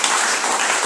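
A church congregation at a French-language worship service applauds God, a dense, steady wash of clapping that fills the whole moment with no pauses.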